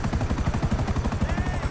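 Rapid, steady rotor chop of an Apache military helicopter in GTA 5, loud and close with a continuous thumping pulse and no talk.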